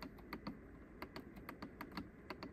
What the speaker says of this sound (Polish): bardzo ładny i duży przełącznik trybu jazdy z miłym klikiem